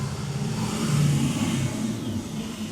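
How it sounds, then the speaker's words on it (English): A school bus passing outside, its engine rumbling low and steady as it goes by, heavy and fairly loud, with a slight swell in the middle and no talking. "Sorry, that was a school bus."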